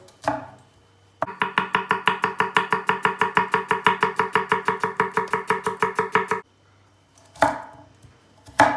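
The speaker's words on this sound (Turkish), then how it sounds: "Bir tane orta boy soğan doğrayacağız." Rapid, steady knife chops through a medium onion on a board, around thirty quick strikes in a row, close and loud, with a few isolated cuts before and after.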